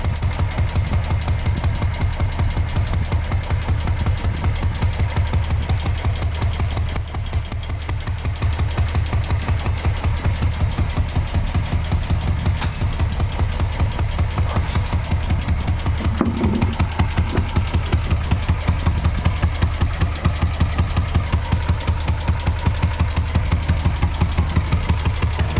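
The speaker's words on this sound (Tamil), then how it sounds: "இன்ஜினை ஸ்டார்ட் பண்ணிட்டு எப்படி இருக்குன்னு காட்டுறேன் பாருங்கள்." A 1968 Royal Enfield Bullet motorcycle engine idles with a steady, loose rhythmic thumping, running continuously up close at a constant pace throughout.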